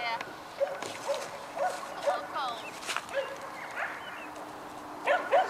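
Dogs outdoors near a creek bark in short bursts and whimper between them, close and moderately loud, while people talk nearby.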